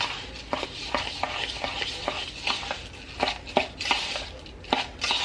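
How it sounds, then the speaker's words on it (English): A spoon stirring a crumble topping mix of brown sugar and a pinch of salt in a bowl, with soft gritty scraping and irregular light clinks against the dish, close and fairly quiet. "And just kind of stir this up."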